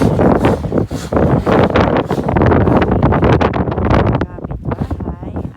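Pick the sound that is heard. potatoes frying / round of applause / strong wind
strong wind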